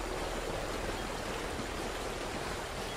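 A stream in Call of Duty: Ghosts flows as a steady, soft rush of water, continuous and even, with no other sounds over it.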